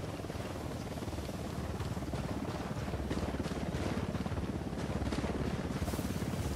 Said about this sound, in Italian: Arriva un elicottero.